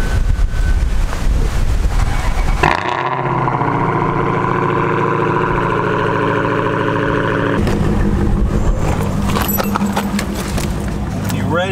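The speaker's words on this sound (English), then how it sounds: "it is just so windy out here" Loud, steady wind buffets the microphone outdoors, with a deep rumbling roar and gusty noise throughout, shifting partway through.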